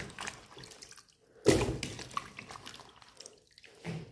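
Cut potatoes for French fries get rinsed in water at home, with soft splashing and dripping, one louder slosh as they drop in, then gentle trickles and another splash at the end.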